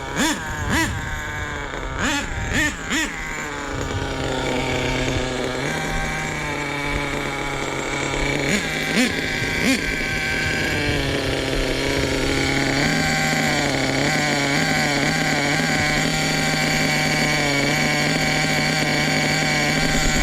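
Nitro RC car engine with a slightly choky low end and a carburetor still not set right, buzzing close by with uneven sputters and revs early on, then settling into a steady running drone.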